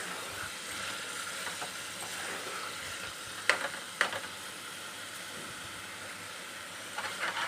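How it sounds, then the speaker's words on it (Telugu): Chicken masala frying in a pan for a Telangana-style chicken fry, a steady soft sizzle and hiss throughout with a few sharp crackles and pops, no voices. "ఇప్పుడైతే మనకు వచ్చి ఆల్మోస్ట్ ఫ్రై అయిపోయింది ఫ్రెండ్స్"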